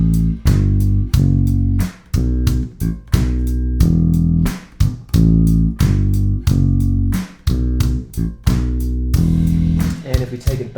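A simple funk bass line on electric bass guitar, played slowly and deliberately as clear, separate punchy low notes in a steady groove with short gaps between phrases, loud and alone.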